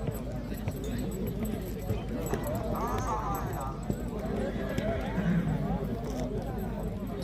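A horse gallops in a neza bazi race in Bradford, UK, its hoofbeats a fairly steady rhythm under loud commentary over a public address and crowd noise.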